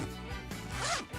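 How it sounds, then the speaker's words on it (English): A zipper in a video game is pulled open in one quick, close, clear rasp lasting about a second, heard alone. "I pulled open the zipper on her back only as far as I needed"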